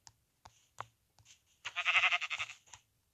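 Sheep in a Minecraft game bleating in a few short calls, then a longer wavering bleat, close and clear with quiet gaps between.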